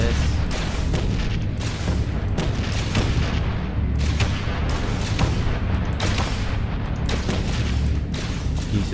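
Ship weapons firing in Space Engineers, a continuous barrage of heavy booming blasts and rumbling impacts with repeated bursts and short gaps, loud and close, no talking over it.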